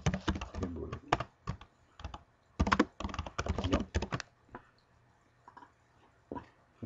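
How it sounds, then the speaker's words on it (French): Someone types an SQL query on a computer keyboard, a quick burst of rapid key clicks with short pauses, then a few scattered keystrokes trailing off over faint room hum. "On va taper l'ordre SQL ici"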